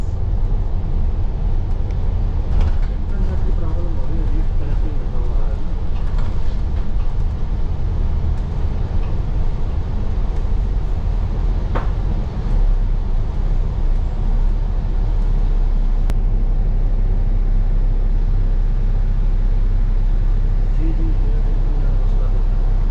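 Interior of a Rapid KL city bus travelling through Kuala Lumpur, a continuous low engine rumble and road noise with occasional rattles and thumps, steady and loud throughout with no speech.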